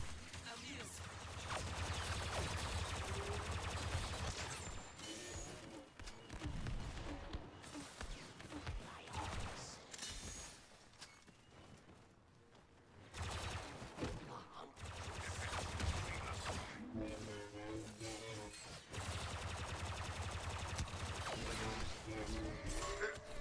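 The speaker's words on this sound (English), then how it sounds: "Keep shooting at me and not the Vader right behind you." Blaster gunfire fills a Star Wars shooter game in dense continuous volleys and crackling bursts under game music and effects, easing briefly midway before resuming loudly, with a player talking over it.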